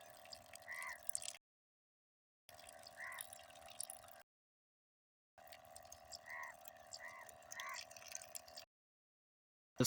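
A solar-powered water pump runs in three separate bursts broken by silences, giving a steady mechanical whir with splashing water over it, fairly quiet and close.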